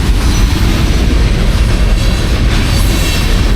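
A train rolls along the railroad through the small Texas town of Daingerfield, a steady loud rumble of railcars with faint rhythmic clatter, continuous and close throughout.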